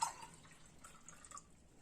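Water is poured into milk in a bowl while making baklava dough, giving a soft, faint trickle and a few light drips and splashes, close by and with no talking.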